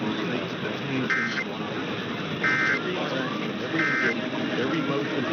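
Emergency Alert System test tone from a Nevada State Police monthly test, three short repeated beeps spaced evenly over a voice speaking continuously.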